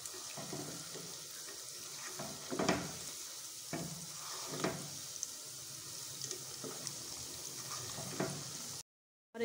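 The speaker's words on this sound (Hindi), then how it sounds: "फ्राई करते हुए ज़रा हमने चम्मच हिलाते जाना है।" Semolina gulab jamun frying in oil over medium heat and stirred with a spoon, a soft, steady sizzle broken by recurring scrapes and swishes from the spoon, quiet and close, cutting out abruptly just before the end.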